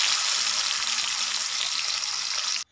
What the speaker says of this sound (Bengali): তেলটা গরম হয়ে গেছে, যে মাছ দিয়ে দিচ্ছি